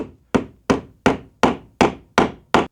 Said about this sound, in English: nail down the hook by hooking through